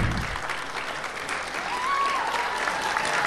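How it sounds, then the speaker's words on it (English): Standing audience applauds steadily at a small-town raspberry festival junior royalty coronation, a broad wash of clapping throughout with faint crowd murmur. "If you all would like to stand for a round of applause."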